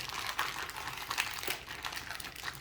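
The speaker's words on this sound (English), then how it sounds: "What we're going to do is take it, cut open the bag." A plastic bag around an eye round beef roast is cut open for jerky, giving a close, continuous crinkling and rustling with sharp little crackles and no talk.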